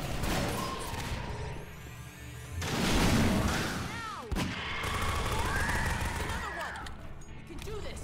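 A grenade explodes in Half-Life 2 with a heavy, rumbling boom mid-clip, surrounded by gunfire, whooshing effects and dense combat noise.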